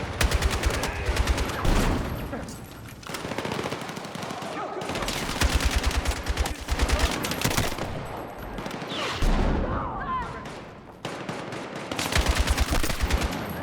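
Gunfire in the video game Battlefield 6 comes as loud rapid bursts of automatic fire, repeated in clusters over the whole stretch, with softer impacts and game sounds between volleys.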